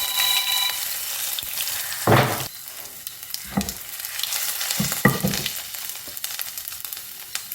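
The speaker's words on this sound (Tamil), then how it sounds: "உளுந்தம் பருப்பு கடுகு போட்டு தாளிச்சிங்கன்னா தான் அந்த டேஸ்ட்டு ரொம்ப நல்லா வரும் கடுகு பொருந்துச்சு இஞ்சி போட்டேன்" Mustard seeds and ginger frying in hot oil for idli upma: a bright, hissing sizzle with scattered crackles and a few louder pops and stirring bursts, close and alone.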